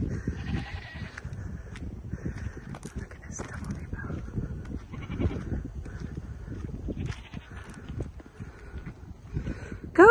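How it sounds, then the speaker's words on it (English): Goats bleating repeatedly at varying distances, mixed with hoof shuffling and people talking nearby. "Goats!"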